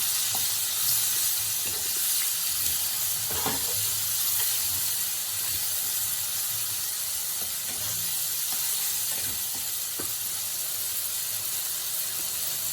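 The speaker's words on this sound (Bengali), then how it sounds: "এখন আমি ভালো করে মিক্স করে নিব।" Spices including Kashmiri chili powder and salt sizzle in a pan for a fish curry, a steady hiss broken by occasional soft stirring scrapes.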